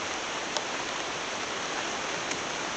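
Rain falls outdoors in Jamaica as a constant, even hiss of drops that stays steady throughout, with a couple of faint ticks and no talking.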